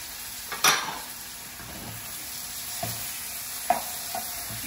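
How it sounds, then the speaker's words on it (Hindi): Spices frying in ghee or oil for a mutton liver dish, a low steady sizzle with a few sharp clanks of a spoon against the pot, no talking. "अब ये मसालों को थोड़ा सा भून लें एक आध मिनट"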